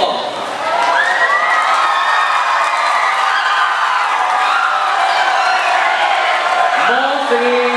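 Students packed into a school hall cheer and whoop loudly for a National Day celebration, a dense continuous roar of many voices with a rising shout near the end.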